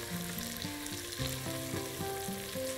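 Chopped onions frying in a pan, browning for caramelised onion chicken, with a steady, close, moderately loud sizzle that holds throughout and has no one talking over it.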